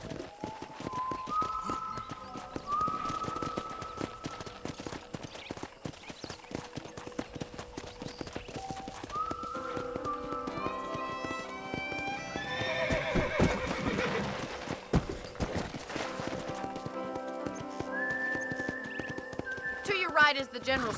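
In Red Dead Redemption, a horse trots with steady, rapid clip-clop hoofbeats on a ranch, neighing loudly partway through, while game voices speak over the hooves.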